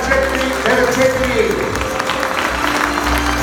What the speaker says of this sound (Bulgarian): Още веднъж аплодисменти за Вера 9-4.